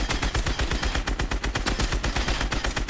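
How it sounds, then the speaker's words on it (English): Rapid, continuous automatic gunfire from the video game Fortnite, fired at practice dummies: a loud, dense stream of close shots with no pauses and no talk. "you're going to want to start shooting after you press your keybind"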